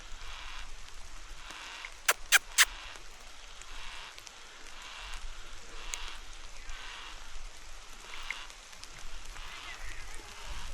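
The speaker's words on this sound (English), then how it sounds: "It is raining, and there's rain on the lens." Rain falls steadily outdoors in rural Tasmania, a soft continuous patter with drops striking a camera lens, broken by a few sharp clicks early on; a voice talks faintly.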